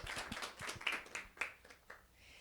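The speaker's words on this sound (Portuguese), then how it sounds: "Salva de palmas." Audience clapping at a business talk event in Brazil, a scattered round of claps of moderate loudness with some individual hand strikes standing out, fading toward the end.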